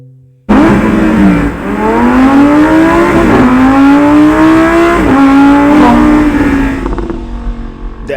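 Lamborghini V10 engine revving hard, a loud close wail that climbs in pitch through repeated throttle pulls and gear changes, then eases off toward the end.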